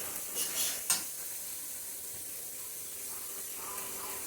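Spice paste fries in a pan for a soybean ghonto with Gobindobhog rice, giving a soft, steady sizzle and hiss, with a few stirring scrapes at the start.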